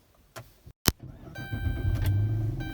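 A Gen III Hemi V8 in a Dodge Charger cranks and fires up after a few clicks and a sharp thump, then settles into a steady, rumbling idle heard from inside the car.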